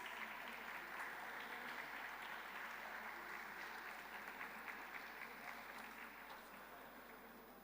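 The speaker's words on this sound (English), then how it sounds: "please give a huge round of applause" An audience at a formal gathering applauds with a dense, steady clatter of many hands that holds at an even level for several seconds.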